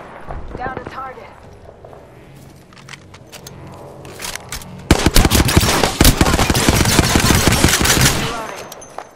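Automatic gunfire in the battle royale game Apex Legends starts as sparse shots under talking, then becomes a loud, dense, sustained stream of rapid shots in the second half.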